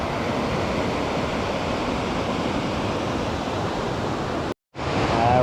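Steady broadband roar of river water flowing at the confluence of the Hokitika and Whitcombe rivers on New Zealand's West Coast, loud and continuous, with a brief cut near the end.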